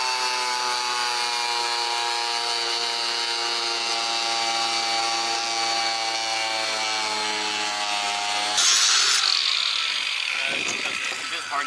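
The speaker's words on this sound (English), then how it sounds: "we got a new cutting wheel. This wheel is meant as a fine blade. It's meant for glass and tile." A power tool fitted with a fine cutting wheel made for glass and tile runs with a steady, loud whine and harmonic hum, then the blade bites in near the end with a harsher, noisier cutting rasp before winding down.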